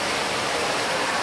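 Continuous even rush of falling water from a waterfall at Tropical World Leeds, a steady broadband hiss heard on its own without talk.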